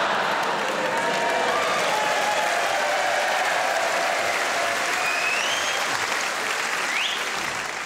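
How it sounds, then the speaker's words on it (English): Live comedy show audience applauding continuously, a dense wash of clapping from a large crowd, steady and fairly loud with a few faint whoops over it. "Just a round of applause, my Bristol cider drinking friend."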